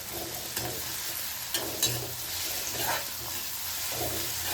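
A spoon stirs chopped capsicum, green chilli and ginger-garlic paste in a hot pan, steady scraping strokes over a continuous close sizzle with no talking.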